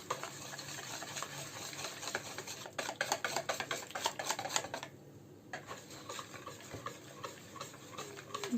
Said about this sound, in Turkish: Şu şekilde iyice karıştırıyoruz